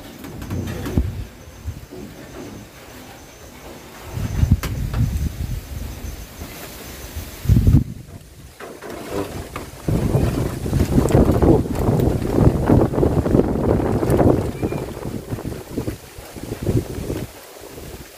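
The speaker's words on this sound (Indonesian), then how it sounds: "Anginnya deras sekali." Strong storm wind roars and buffets continuously around a shelter, rising and gusting with rumbling microphone buffeting and loud rushing noise throughout, no one speaking.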